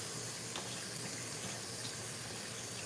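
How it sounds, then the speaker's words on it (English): Tap water running steadily into a sink while something is rinsed during miso soup prep, a constant faint hiss with no pauses and no talk. "just gonna rinse this off"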